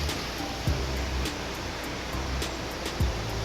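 River water rushing continuously along its course, a broad steady wash heard close by with occasional thumps and faint clicks under the flow.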